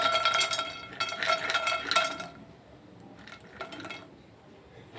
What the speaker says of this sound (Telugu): ఇప్పుడు ఆయిల్ లేకుండా ఒక్కొక్కటి విడివిడిగా వేయించుకోవాలి